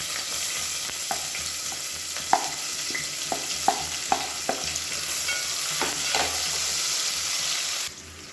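Sliced onions sizzle and fry in hot oil in a pan during biryani preparation, with scattered stirring clinks and scrapes over a steady frying hiss that stops abruptly at the end.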